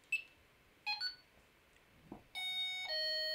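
A Delkim bite alarm receiver sounds as an alarm is set off: a few short electronic beeps, then a sustained, steady high-pitched tone, heard up close in an otherwise quiet setting.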